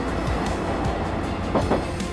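A train on the West Highland Line in Scotland rumbles steadily, with a continuous low rolling roar and faint wheel clatter running close by throughout, no voices.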